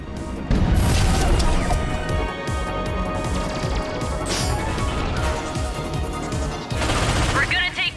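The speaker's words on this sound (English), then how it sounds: "When the cannon charges, open fire." Heavy cannon fire from a defense turret in the Ratchet & Clank video game, dense repeated blasts and crashes layered with explosions and battle noise, loud and sustained throughout.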